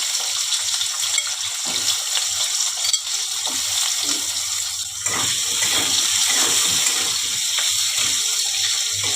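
Diced potatoes drop into hot oil with nigella seeds and fry in a pan, giving a loud, close, continuous sizzle with crackling spatters and occasional stirring scrapes throughout.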